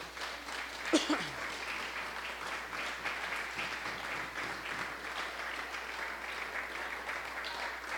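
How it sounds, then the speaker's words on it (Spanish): Applause from a church congregation at a Spanish-language service, clapping for the Lord; moderately faint, steady clapping with a brief louder accent near the start and low room hum beneath. "Dale un fuerte aplauso al Señor."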